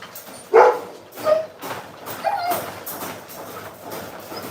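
A dog gives a few short barks and whiny yelps at irregular intervals, fairly close, over a faint background hiss.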